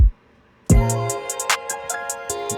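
A single punchy kick drum hit lands after a moment of quiet, followed by a quick run of crisp ticking hi-hats and another low thump.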